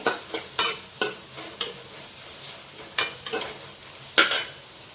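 Red chillies sizzle in ghee for tempering dal, a soft steady frying hiss broken by repeated scraping stir strokes of a spoon in the pan, close and moderately loud with no talking.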